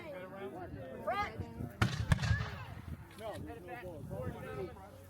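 A black powder rifle loaded with a heavy charge fires during a historical battle reenactment at a fort. Two sharp bangs sound in quick succession while people talk over them.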